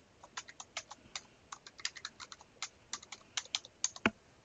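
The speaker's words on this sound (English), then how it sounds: "So type your password in." Rapid keystrokes on a computer keyboard as a password is entered at a Linux login, an irregular run of sharp, close clicks that stops and starts, ending in a firmer key press. No voices.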